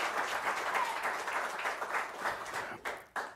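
An audience applauds at a jazz hall of fame induction ceremony, with a steady wash of many hands clapping in a hall that thins and breaks up near the end.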